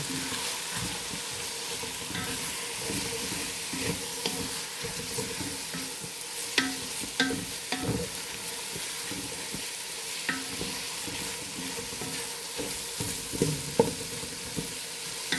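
Meat for lumpia stirred and frying in a pan, a steady soft sizzle with scattered scraping and clinking strokes from a utensil, close and fairly quiet, without any talking.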